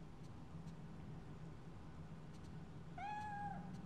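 One short, rising-then-falling cat meow near the end, rising above a low steady background hum in the video game Fatal Frame 3: The Tormented.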